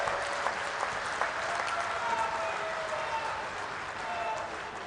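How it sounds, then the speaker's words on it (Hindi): A crowd applauds loudly to welcome Amit Shah at a political rally in Jodhpur, dense sustained clapping filling the whole span without a break. "जोरदार तालियों के साथ में उनका स्वागत करें"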